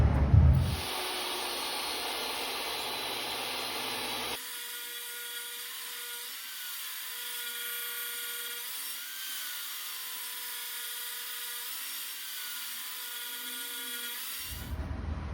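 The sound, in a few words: cutting wood down to size for an end table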